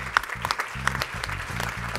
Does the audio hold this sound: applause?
yes